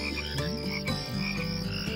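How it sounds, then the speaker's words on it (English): A frog croaks in repeated low throaty bursts against a soft, steady musical background. "You can hear the froggy singing."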